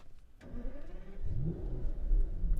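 A 2014 Aston Martin DB9 Volante starting up: a click, then the starter catches and the engine fires into a rising, throaty exhaust rumble that swells and holds close by.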